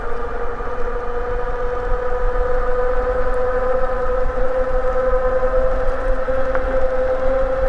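A 52V Aniioki AQ177 Pro Max eBike at full throttle gives off a steady, loud motor whine with tonal harmonics over constant wind and road rumble, holding level throughout.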